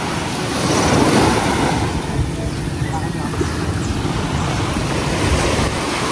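Waves wash on a seashore in a constant broadband roar, close and loud, with wind buffeting the microphone throughout and no clear breaks between surges.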